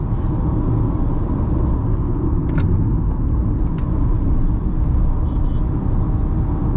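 Tata Punch car cruising at around 90, a steady, loud low road rumble and engine drone inside the cabin, continuous throughout with no talking.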